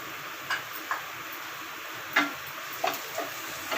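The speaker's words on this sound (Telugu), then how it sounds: "ఉల్లిపాయలు బాగా వేగినాయి కదా ఇప్పుడు కొంచెం గ్రీన్ చిల్లీ ఇలా కట్ చేసుకుని వేస్తున్నాం" Onions and chopped green chilli frying in a pan for egg dosa: a soft, steady sizzle with a few light clicks and taps, quiet and without voices.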